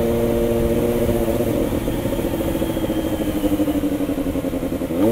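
A Kawasaki ZX25r motorcycle engine runs loud and close while riding, its steady high-revving drone holding throughout with a slight rise and fall in pitch and no talk over it.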